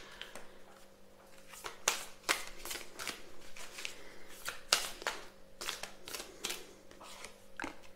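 Oracle cards are shuffled by hand nearby, giving repeated crisp riffling and slapping bursts in an uneven rhythm, fairly close and clear over a faint background hum.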